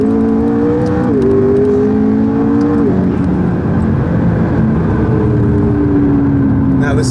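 An 840 HP McLaren 12C sports car drives with a loud, close engine drone whose pitch climbs and drops as it shifts through gears, filling the cabin continuously.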